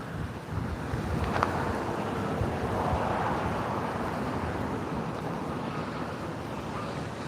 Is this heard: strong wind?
yes